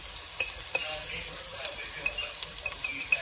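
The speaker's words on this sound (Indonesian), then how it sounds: "tumis wortel untuk sayurnya" Carrots sauté in a pan for a sweet and sour sauce, giving a soft, steady sizzle with light scraping and clicks of stirring, fairly close and without talk.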